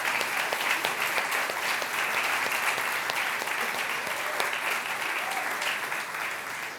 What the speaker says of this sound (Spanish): demos un aplauso grande otra vez al nombre de Jesús